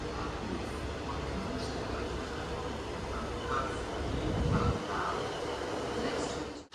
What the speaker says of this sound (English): Pulling in now on platform 4 is a terminating GWR Cucumber from London Paddington